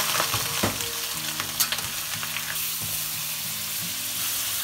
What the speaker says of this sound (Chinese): 油热了以后，将鸡煸炒一下，这样炖出来的鸡会更香。